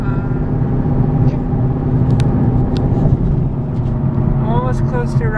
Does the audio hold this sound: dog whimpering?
no